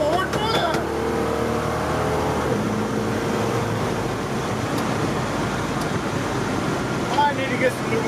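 A car with an AOD automatic transmission pulls hard, its engine note climbing then dropping as it kicks down. Road and wind rush take over, with voices present nearby.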